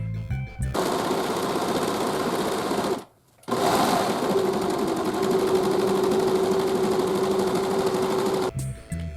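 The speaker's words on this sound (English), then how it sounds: "time to do more serging." A serger sewing machine stitching corduroy fabric for a long-sleeve boxy top runs loud and steady in a close, continuous whir, pausing briefly once before resuming, with no talk.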